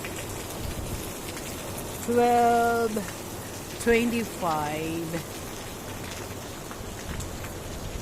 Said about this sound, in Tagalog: Lakas ng ulan dito, ha?